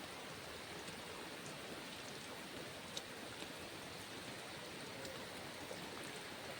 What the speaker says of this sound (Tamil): கடலில் மழை பெஞ்சிக்கிட்டு இருக்கு பாருங்கள்